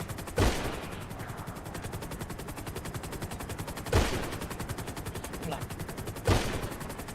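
Rapid automatic gunfire in the game GTA V rattles almost continuously, with three louder heavy shots standing out about every three seconds.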